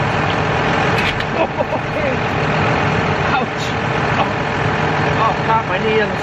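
A small tractor's engine idles steadily with a continuous low rumble, close by, while people talk over it and a few brief clanks and knocks sound.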